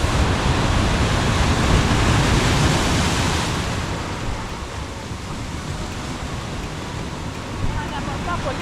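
Sea waves break into white foam along the Madeira coast at Paul do Mar, a dense roaring wash that swells loudly at first and then eases into a steadier, softer rush with faint wind.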